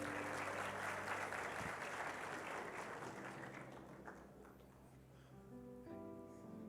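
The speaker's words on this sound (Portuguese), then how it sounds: "Salva de palmas para ele, gente" A church congregation applauding during a sermon, a loud burst of many hands clapping that slowly thins and fades, with faint music continuing underneath as it dies away.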